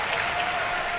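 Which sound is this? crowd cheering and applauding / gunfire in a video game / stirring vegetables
crowd cheering and applauding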